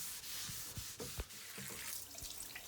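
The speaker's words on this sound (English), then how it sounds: "I rinsed it off with fresh clean water" Fresh water rinses deck cleaner off oak boat floorboards as a steady splashing hiss, broken by irregular knocks and drips, with nobody talking.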